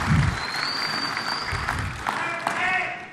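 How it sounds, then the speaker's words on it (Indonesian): An audience applauds at the 2024 Central Java gubernatorial and vice-gubernatorial debate, a few seconds of steady clapping from a crowd with a voice faintly underneath. "Tepuk tangan untuk kita semua."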